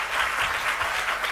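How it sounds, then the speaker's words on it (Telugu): Church congregation clapping together during a sermon, a short burst of steady, fairly distant applause. "ఒకసారి చప్పట్లు కొడదాం"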